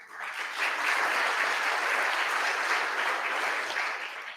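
Applause from the audience at a school board of education meeting, greeting a first-year art teacher from an elementary school: steady, dense clapping from many hands throughout, loud and close, swelling quickly and fading slightly at the end.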